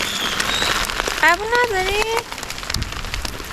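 Rain falling steadily outdoors during a survival-style challenge, a constant wash of patter through the whole stretch, with a person speaking briefly over it.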